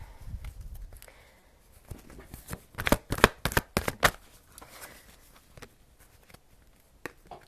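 Tarot cards are shuffled by hand: a rustle, then a burst of rapid riffling flutters in the middle, and a few soft taps and slides follow, close and fairly quiet.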